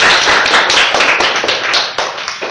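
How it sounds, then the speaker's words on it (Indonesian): An audience at a financial literacy education seminar applauds speaker Pak Oki, a brief, loud burst of many hands clapping together with steady, close claps. "kita kasih aplaus lagi dong buat Pak Oki"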